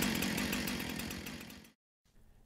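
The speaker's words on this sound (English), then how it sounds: "further rev the engine until the chain brake is disengaged" A Husqvarna gasoline chainsaw engine revs hard at high, steady speed, loud and close, then cuts off abruptly into silence before a faint low idle returns.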